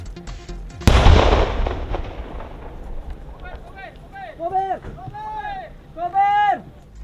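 The military detonates old recovered vintage bombs in a barangay in Zaragoza: a single heavy blast booms out and rumbles away, followed by people talking.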